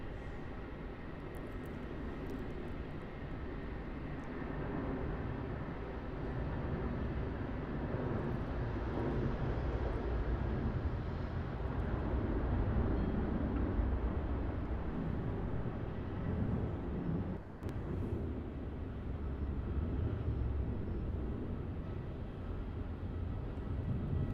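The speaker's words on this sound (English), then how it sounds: "There was the Jetstar A320 departure." A Jetstar Airbus A320 departs Melbourne Airport at dusk under overcast skies, its jet engines a steady distant roar that holds broad and even throughout, with light wind rumble and no talk.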